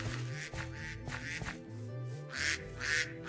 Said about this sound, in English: I hear 2 ducks in the park.